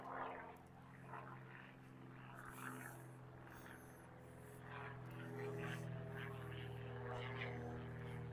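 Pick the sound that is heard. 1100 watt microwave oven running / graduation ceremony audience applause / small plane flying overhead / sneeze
small plane flying overhead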